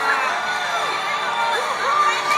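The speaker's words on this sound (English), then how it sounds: "Everybody cheering for Naruto." A crowd of villagers cheers for Naruto in the anime Naruto Shippuden, with a sustained wash of shouting and whooping voices at steady loudness.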